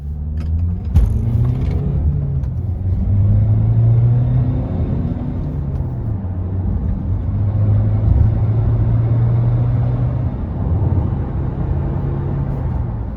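A Honda CR-V 1.6 diesel engine hums and revs up uphill through first, second and third gears, pitch rising and dropping with each shift, a steady close rumble throughout.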